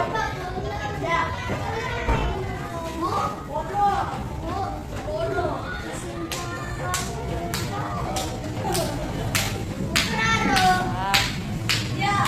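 A class of students applauding for a presenting group, with scattered claps and sharp hand slaps mixed under lively children's chatter and voices throughout.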